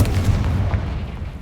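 A short, booming blast from a Confringo fire spell in Hogwarts Legacy lands with a deep low thud that quickly fades, alone without speech.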